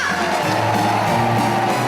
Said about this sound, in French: Est-ce que vous voulez applaudir très fort monsieur Aznavour qui est là?